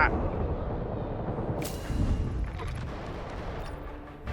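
Gunfire in the video game Delta Force rumbles and cracks continuously in a dense, loud battle soundscape, with one sharper report standing out partway through before the noise tapers slightly.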